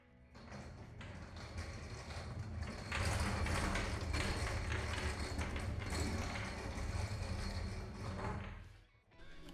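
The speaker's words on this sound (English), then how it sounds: "it's a stick welder, it's an arc welder" A stick arc welder runs in a garage during a Ford Focus wheel bearing removal. It starts with lighter mechanical taps, then swells into a loud, sustained crackling hiss for several seconds before cutting off, with no speech.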